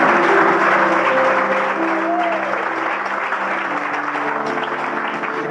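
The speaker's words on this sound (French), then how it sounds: "acclamons pour le Saint-Esprit." Congregation applause at an evangelical church service, a loud, dense, sustained clapping from a large crowd that stays steady and fades only slightly over several seconds.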